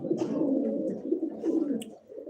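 Pigeons coo in low, throaty rolling calls that run almost continuously, close and moderately loud, with a few faint higher chirps from other birds mixed in.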